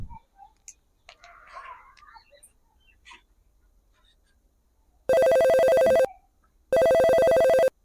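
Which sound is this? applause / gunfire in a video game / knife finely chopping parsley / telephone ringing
telephone ringing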